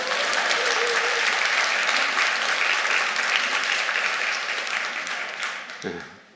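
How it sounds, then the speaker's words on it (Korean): A church congregation applauds loudly and steadily during a New Year sermon, a dense wash of clapping that gradually fades out, with a brief voice near the very end. "지금 여기 어디선가 있을 텐데 박수 한번 쳐봅시다."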